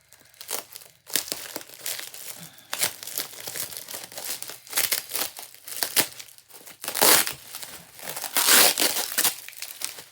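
Plastic packing material crinkles and crackles in bursts as it is handled close by, with brief pauses between handfuls.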